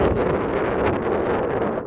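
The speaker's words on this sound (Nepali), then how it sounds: "अनि यता चाहिँ यस्तो चिसो चिसो हावा चलिरहेको छ।" Strong, cold wind blows hard and continuously across the microphone at Sailung, Nepal, a loud buffeting roar with no voices.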